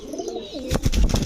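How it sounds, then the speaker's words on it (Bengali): A pair of red Sirazi pigeons gives a soft, low coo that swells into louder, close, throaty cooing bursts in quick succession, with no speech. "এখন দেখাবো একদম টকটকা লাল এক জোড়া সিরাজি কবুতর"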